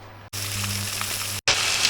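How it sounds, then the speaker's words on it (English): Loud, steady frying sizzle of chicken breast in a hot pan, a broad crackling hiss that cuts out briefly twice and then resumes just as strongly. "you can see how that's frying, look. Very noisy"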